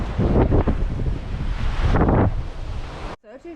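Strong wind buffets the microphone over rushing waves and hull wash aboard a sailboat under jib and mainsail off the coast of Brazil, loud and continuous, easing briefly near the end.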